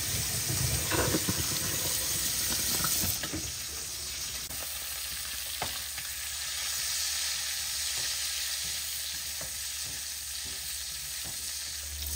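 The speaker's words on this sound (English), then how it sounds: "we're going to brown our sausages on both sides, of course" Sausages browning in oil in a pan for a shrimp and sausage pasta, a steady close sizzle that is loudest over the first three seconds, then settles into a softer, even frying hiss with occasional light pops.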